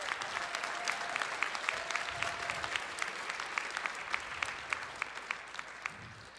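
Steady applause from a modest convention audience at the Las Pegasus Unicon 2017 writers panel, with distinct individual claps audible in a soft, even patter that holds for several seconds.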